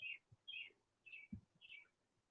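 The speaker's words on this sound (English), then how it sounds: "We get a bunch of songbirds." Songbirds chirping outdoors, four short bright calls spaced evenly about half a second apart, fairly close and clear over quiet background with a few low thumps.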